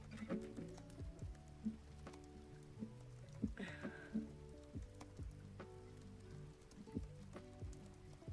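Light rain falls in soft, scattered drips and taps, quiet and unhurried over a faint steady background, with no voices.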